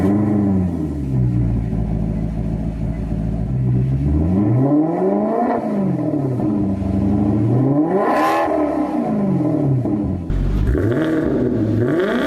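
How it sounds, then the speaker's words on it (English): A stock sports car engine in sports mode burbles at low idle, then swells through several loud rising and falling revs, close and alone with no talk. "it does have a satisfying burble at low idles, and roaring revs"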